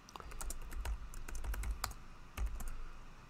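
Typing on a computer keyboard, a close burst of quick, uneven key clicks with short pauses between them, no voices.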